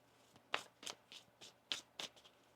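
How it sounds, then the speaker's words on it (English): Tarot cards being shuffled by hand, a quiet series of about six soft riffling swishes and taps at uneven intervals, close and alone. "One more shuffle here."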